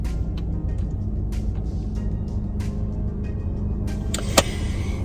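A car engine idles steadily at close range while warming up on a cold morning before a drive to work, a low continuous rumble with a few brief clicks and one sharp knock near the end; no one speaks.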